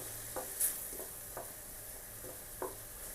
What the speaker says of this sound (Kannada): ಇದು ಸ್ವಲ್ಪ ಹಸಿ ವಾಸನೆ ಹೋಗೋವರೆಗೂ ನಾವು ಐ ಫ್ಲೇಮಲ್ಲೇ ಇಟ್ಟು ಫ್ರೈ ಮಾಡ್ಕೊಳ್ಳೋಣ.